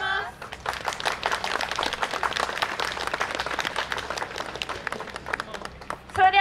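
An audience claps at a Yosakoi Soran dance contest performance at a spring festival in Hadano, the dense, fairly steady applause running throughout with a voice briefly audible at the edges.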